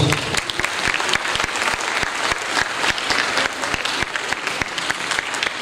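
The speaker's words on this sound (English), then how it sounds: "let's give him a big round of applause" Conference audience applauds for a speaker at a board welcome address, dense continuous clapping from many hands, close and steady throughout with no talk.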